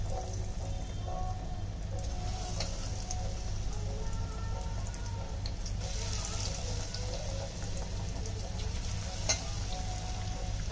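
Potato pakoras sizzle steadily in hot oil over medium heat, a dense, even crackle like rain that keeps going throughout, with faint kitchen clatter in the background.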